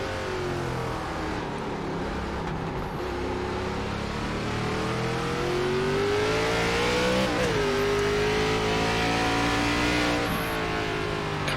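ARCA race cars lap Tsukuba in the iRacing game, a continuous engine drone holding a steady pitch that rises and dips as the car shifts, loud and unbroken with no voices.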